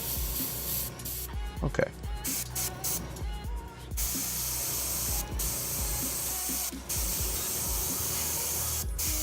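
An airbrush in need of cleaning sprays paint, a steady close hiss that stutters in short bursts early on before running continuously, with a brief spoken word near the start.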